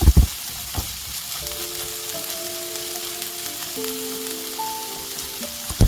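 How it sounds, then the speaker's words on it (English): Chopped onion and vegetables sautéing in a pan, a steady close sizzle that holds evenly throughout with a few brief clatters at the start and end and faint tonal hums in the background. "Saute that for about half a minute before introducing the other ingredients"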